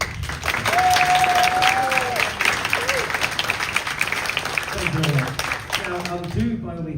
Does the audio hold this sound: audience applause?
yes